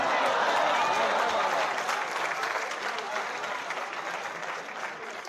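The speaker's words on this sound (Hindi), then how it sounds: "आप एक बार फिर अपने लिए तालियां बजाएं।" Audience applause at a mushaira, an Urdu poetry recital at the University of Sargodha Law College: a dense, sustained wash of clapping from a large crowd, fading gently toward the end.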